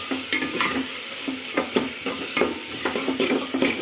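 Spices stirred into a tomato rice mixture in a pan, a spoon scraping in irregular strokes over a steady close sizzle, with no talking.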